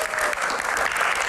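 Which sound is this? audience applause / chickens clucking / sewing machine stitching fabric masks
audience applause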